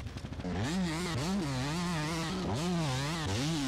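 Engine of a 125 dirt bike in the video game MX vs ATV Legends, loud and close, rising and falling in pitch through several quick revs.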